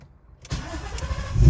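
A Ford Mustang engine cranks and starts after half a second of near silence, then settles into a low, close rumble that swells louder toward the end.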